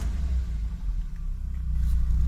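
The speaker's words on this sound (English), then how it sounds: "So with the engine idling" The engine of a VW Golf Mk1 idles with a deep, steady low rumble close by, heard alone during work on bleeding its cooling system.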